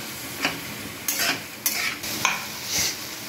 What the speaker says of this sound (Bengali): স্বাদ অনুযায়ী নুন দিয়ে এটা ভালো করে ফ্রাই করব